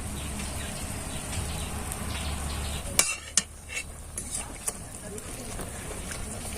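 Spoonfuls of malpua pitha batter drop into hot oil and fry with a steady near sizzle and bubbling, broken by a few sharp clinks of a spoon midway.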